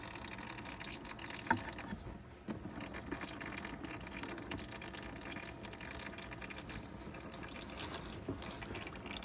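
Engine oil draining from a 2014 Porsche Cayenne into a pan, a steady low pouring and gushing stream, fairly quiet and continuous with a small splash near the middle.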